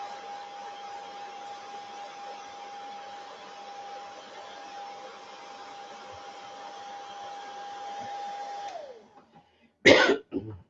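A hair dryer runs steadily for about nine seconds while drying a snow globe craft, holding a constant whine before it switches off and winds down, followed by a single short cough.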